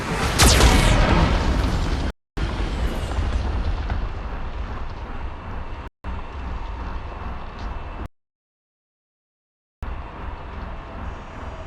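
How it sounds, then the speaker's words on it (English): A Geth cannon firing in Mass Effect 2: a sharp, loud blast opens, followed by sustained rumbling explosions and debris, broken by short silent gaps and one longer dead stretch before the roar resumes. "Geth cannon is locking on our location."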